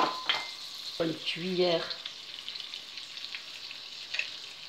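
Margarine sizzles and crackles as it melts in a hot pan, a soft continuous frying hiss with a few utensil clinks, while a person talks quietly nearby.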